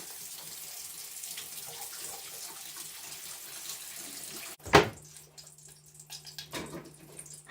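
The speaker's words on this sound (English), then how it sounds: "turn the cold water on so that there'll be cold water running down while this is going down" Cold water runs from a kitchen tap into the sink as a steady, faint wash of flow, interrupted midway by a sharp loud clatter and a few softer knocks.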